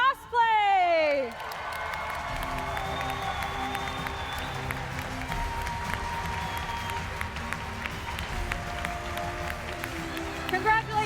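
An audience at a cosplay contest breaks into steady applause and cheering for a category winner, a broad crowd wash lasting several seconds after a brief spoken announcement at the start.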